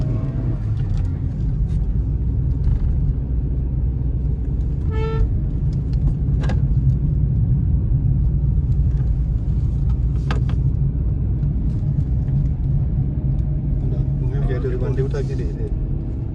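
A car engine labours up a steep ghat road through Bandipur forest toward Ooty, a steady low rumble filling the whole stretch with brief horn-like tones and a passing vehicle, under faint speech.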